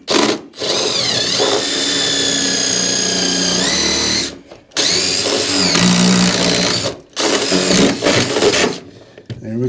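A cordless power drill bores through the wooden wall of a deer stand in long whining bursts, motor pitch sagging and rising under load, with short pauses between runs.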